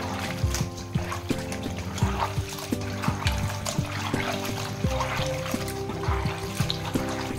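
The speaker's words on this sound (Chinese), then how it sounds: "将面藕呢清洗两遍" Soaked lotus root noodles rinsed in cool water in a basin, with steady trickling and splashing mixed with soft clinks and thumps of handling, close and continuous, no talking.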